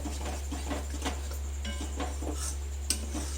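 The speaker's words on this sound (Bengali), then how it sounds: "ভালো করে তেলটা একটু পোস্তর সাথে মিশিয়ে নেব" Oil is worked into poppy seed paste for begun posto, an eggplant and poppy seed dish, giving soft, repeated spoon scrapes and light clinks against the bowl, faint over a steady low hum.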